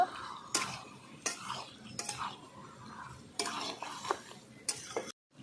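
A spoon stirs and scrapes a pan of chicken curry with potatoes and a little sour yogurt while it sautés: about six sharp, close scraping strokes at an uneven pace over a soft sizzle.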